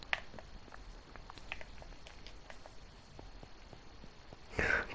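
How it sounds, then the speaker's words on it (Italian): Rain falling in the Minecraft video game, a faint, steady soft patter with scattered drip-like ticks and a brief louder splash of noise near the end. "Non ha ancora smesso di piovere, ti rendi conto?"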